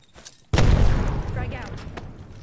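Gunfire from the Apex Legends video game opens abruptly after a brief quiet, a dense loud burst of shots that decays into sustained rattling noise with in-game effects layered behind.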